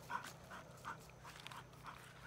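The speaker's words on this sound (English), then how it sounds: "Dogs enjoying freedom from where the fence got knocked down." Dogs pant softly and rhythmically outdoors after Hurricane Michael knocked down a fence, faint and fairly close against quiet background noise.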